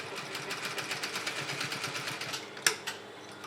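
A sewing machine stitches a fabric pocket with a fast, even mechanical chatter, close and steady, then stops with a sharp clack and a brief follow-up click.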